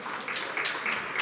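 Brief applause from a conference audience at a fintech event, a soft, somewhat distant patter of clapping that swells slightly in waves.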